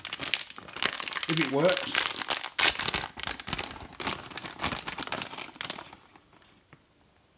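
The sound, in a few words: plastic cheese packaging being cut open and crinkled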